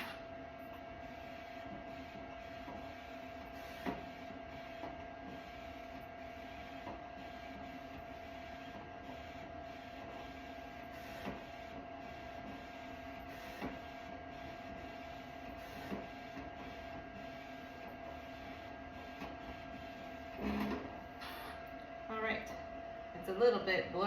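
A label printer runs a print job at a desk, giving a steady mechanical hum with a sustained tone and light clicks that pick up near the end, while a person talks over it.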